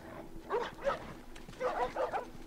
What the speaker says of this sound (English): Actually, the dogs just run away,